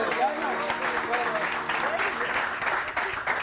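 Audience applause in a TV studio morning show, a dense continuous wash of clapping from many hands, fairly loud, with voices faintly underneath.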